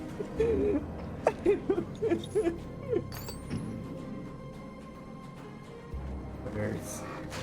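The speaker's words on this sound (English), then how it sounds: "Birds." Birds hoot in the dark woods of the Alan Wake video game, a run of short, rounded owl-like calls clustered early and then fading into a low ambient rumble, with a voice talking over the soundscape.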